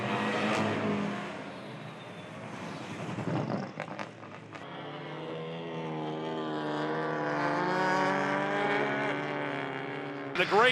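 TCR touring race cars accelerate at a restart on a Sydney circuit, their engines building into a sustained, rising roar that holds steady across the clip, with a commentator's voice over it.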